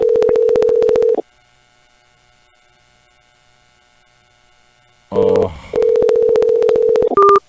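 A telephone call sounds as dialing and line tones: a loud, steady tone with rapid pulses for about a second, a long quiet stretch with faint hum, then more loud pulsed tones and a higher closing beep.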